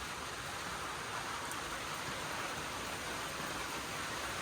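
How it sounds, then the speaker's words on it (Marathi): Steady, dense rain pours down in a constant hiss, a cloudburst downpour over Miraj, filling the whole scene without pause or voices. "हे लईच पाऊस पडला आहे"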